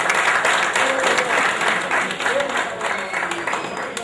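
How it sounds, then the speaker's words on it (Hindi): An outdoor crowd at a Pakistan Independence Day gathering at a camp in Jubail, Saudi Arabia, breaking into loud, dense, continuous applause, with voices mixed in. "इनके लिए भरपूर तालियां।"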